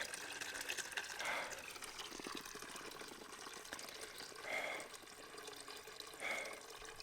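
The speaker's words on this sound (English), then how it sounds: "the water is now emptying out of the grey tank into my bucket" Grey water drains from a converted bus's grey tank into a bucket, a quiet steady trickle and splash with a few brief louder gurgling surges, no talk.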